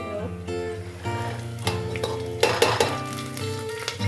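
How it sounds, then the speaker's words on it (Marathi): Chopped onion is added to peanuts frying in a pan, with a steady sizzle, spoon stirring and a few sharp metallic clinks against the pan. "शेंगदाणे परतून झाल्यानंतर याच्यामध्ये आता आपण कांदा घालून घेणार आहोत"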